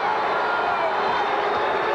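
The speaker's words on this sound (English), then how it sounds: "And now the crowd comes alive here at the Forum, trying to get the Lakers on a run." A basketball crowd at the Forum during a Lakers–Mavericks 1986 playoff game roars in a dense, steady wash of distant cheering and noise, with a broadcast voice faintly present.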